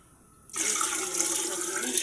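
Water gushes into a cooking pot while preparing steamed dchicha barley grits, a sudden, steady splashing pour that starts after a quiet moment and runs on close and clear.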